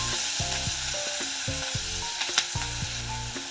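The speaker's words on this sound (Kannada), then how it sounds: "ಉಪ್ಪು ಹಾಕೊಂಡು ಈರುಳ್ಳಿ ಚೆನ್ನಾಗಿ ಫ್ರೈ ಆಗೋ ತನಕ ಫ್ರೈ ಮಾಡ್ಕೊಳ್ಳೋಣ." Onions with salt fry in hot oil in a pan, giving a steady, close sizzle throughout, with faint stirring scrapes and background music playing underneath.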